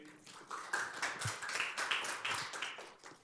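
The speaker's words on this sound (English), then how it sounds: "I do always like when people clap for me when I start talking" An audience claps for a speaker opening a talk on social media law for small businesses, a dense patter of many hands that swells and continues for a few seconds in a room.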